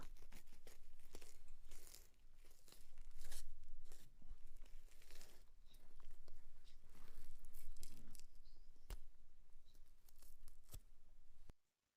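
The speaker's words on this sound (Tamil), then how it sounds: "இப்போ இந்த சின்ன சின்ன பீஸாக நம்ம கட் பண்ணி எடுத்துக்கலாம்" Palak spinach leaves are cut into small pieces with dense, crisp crunching and tearing sounds, close and continuous, and a few sharper knife taps, ending abruptly in silence.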